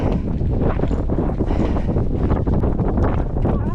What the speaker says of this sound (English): I think the speaker on the GoPro can capture the Patagonian wind.